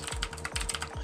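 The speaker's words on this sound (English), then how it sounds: "again, type your stuff" Quick typing on a computer keyboard, a close, rapid run of light plastic key clicks in an uneven rhythm.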